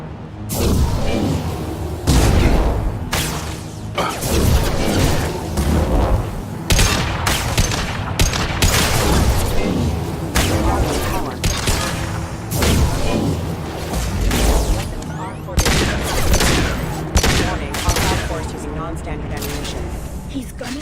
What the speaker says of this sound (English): He's gunning down his own crew to keep control?